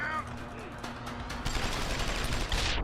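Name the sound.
enemy gunfire in the video game Deus Ex: Human Revolution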